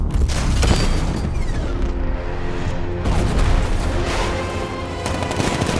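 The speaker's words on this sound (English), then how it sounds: ".60mm cannon operational." A 60mm cannon fires in the video game Batman: Arkham Knight as a loud, dense barrage of booms and rapid gunfire that continues throughout with a mechanical rumble underneath.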